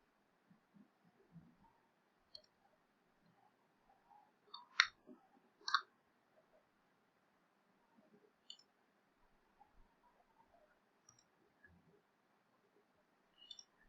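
A few sharp, faint computer mouse clicks, spaced irregularly with a couple of close double clicks mid-way, over a quiet room hum.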